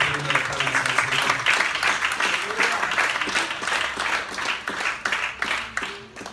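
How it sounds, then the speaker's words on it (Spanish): A church congregation claps in praise, loud rhythmic applause from many hands building into steady beats, with voices calling out over it before it tapers off near the end. "Dale esa segunda de palmas al Señor."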